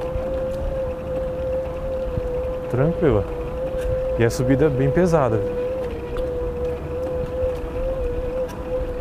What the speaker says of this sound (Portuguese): Olha o barulhinho do motor.